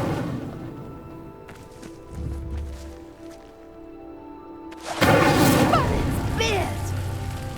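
Incendio fire spell igniting a pyre in Hogwarts Legacy, a sudden whooshing burst of crackling flame that flares up loudly and lingers, following a spoken voice and quieter game ambience.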